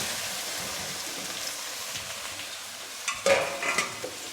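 Onion, green chili and ginger sizzle steadily in a pan of hot oil, then a spoon scrapes and stirs them with a few louder clatters near the end.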